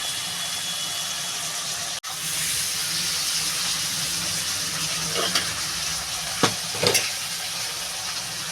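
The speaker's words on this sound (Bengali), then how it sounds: "মাছটা একটু ভাজা ভাজা হলে তারপরে নারকেলটা দিয়ে দেবো" Fish fries in a pan with a steady, close hiss and sizzle. A few brief clinks of stirring or utensils break through near the end.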